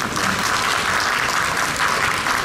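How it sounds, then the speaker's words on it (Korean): Steady, dense applause from a seminar audience fills the whole stretch, even and sustained with no gaps or voices standing out. "다시 한번 박수 한번 부탁드리겠습니다."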